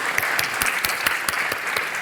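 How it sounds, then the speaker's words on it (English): Applause from a conference audience fills the hall for a panel on the main stage, a steady dense clapping held evenly at moderate level throughout with no voices over it. "Audience, could we please put a round of applause"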